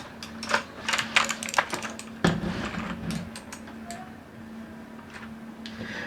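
Typing on a Cooler Master CK350 RGB mechanical gaming keyboard with Outemu switches, quick clacking keystrokes in uneven bursts, then a louder thump and quieter, sparser taps close up.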